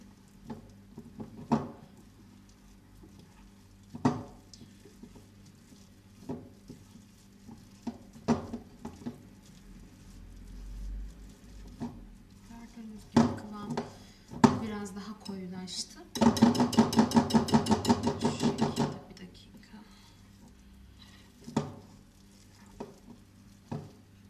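Runny şekerpare batter stirred in a pot with soft, scattered scraping taps and wet patters at irregular intervals, broken by a louder rapid rattling burst midway; otherwise quiet and close.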